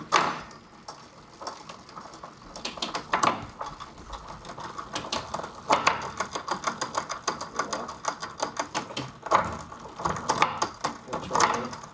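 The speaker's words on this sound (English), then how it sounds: "let's go through the gears now. Okay, going down the cassette." Rear cassette of a bicycle being run through its gears during a tune-up: a steady stream of rapid mechanical clicks and ticks from the drivetrain, close and fairly continuous, with no speech over it.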